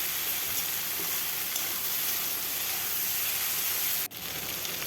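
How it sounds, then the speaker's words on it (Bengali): Potato and eggplant cooking in a pan give off a steady, even sizzle and hiss, with faint stirring scrapes and a single sharp knock near the end, heard close with no speech. "বেগুন থেকে অল্প অল্প জল বেরোবে, এই জলেই ভালোভাবে সেদ্ধ হয়ে যাবে আলু বেগুন। এইভাবে নাড়তেই থাকবো।"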